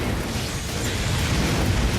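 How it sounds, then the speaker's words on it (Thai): A grenade blast in the shooter game Aliens: Fireteam Elite roars as a dense, loud rumbling explosion that fills the whole two seconds without talk. "ระเบิดลูกเดียวนะครับเลือดเต็มหายหมดแรงมาก ๆ"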